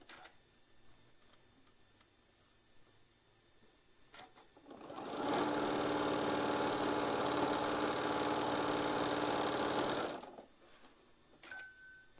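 A sewing machine stitches quilt block pieces in a continuous chain-piecing run, its steady motor hum lasting about five seconds before stopping, with soft handling clicks before and after.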